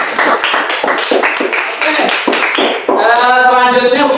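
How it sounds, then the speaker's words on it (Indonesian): Classroom students clap together in a quick rhythmic burst of hand claps, then the clapping gives way to a voice speaking loudly near the end. "Tepuk tangan buat kita semua."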